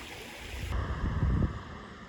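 A small creek runs near a road bridge with a soft, steady burble close by, swelling briefly in the middle amid light wind rumble and no talk.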